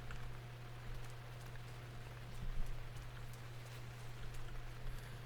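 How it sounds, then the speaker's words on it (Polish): Gentle rain patters steadily and softly in the video game Teardown, a constant hiss of drops with a low hum beneath it. "Deszcz pada. Nawet ładnie to wygląda."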